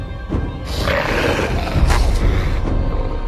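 A huge, dark-furred wolf growls and roars, a deep continuous rumbling snarl that swells and thuds, loud and close, with no speech over it.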